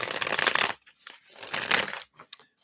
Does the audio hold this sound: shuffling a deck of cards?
yes